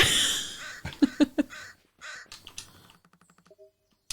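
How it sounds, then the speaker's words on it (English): A crow in the video game Spirittea gives a series of sharp, close caws, followed by lighter clicking bursts and a short tone before it falls silent. "I found the crow!"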